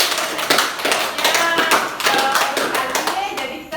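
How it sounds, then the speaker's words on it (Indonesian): A group of people clap together in applause during a group activity therapy session, a dense burst of hand claps lasting a few seconds with some voices mixed in. "Yes, beri tepuk tangan dulu."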